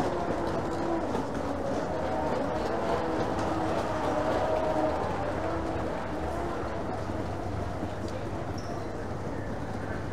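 Steady rumble and rattle of an Elizabeth Line airport train car in motion at Heathrow, with a low continuous drone and faint clanks throughout; no one speaks.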